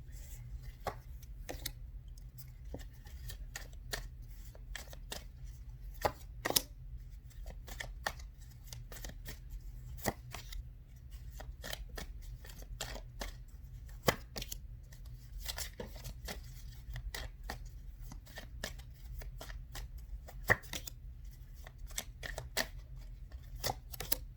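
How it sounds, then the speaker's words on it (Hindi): Tarot cards shuffled by hand for a pick-a-card reading, giving a steady run of soft riffling clicks and snaps over about twenty-four seconds, quiet and close, with no talking. "आपके सामने शफल कर करके हम एक कार्ड निकालेंगे एक एक करके।"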